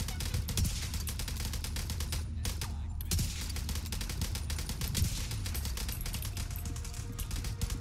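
Automatic gunfire in the shooter game The Division 2 rattles in rapid, continuous bursts with brief pauses, fairly loud and sharp throughout.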